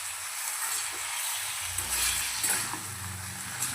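Spices sizzle and fry steadily in a pan with ginger and garlic as a fish curry is prepared, a constant close hiss with a few soft stirring scrapes and no talk.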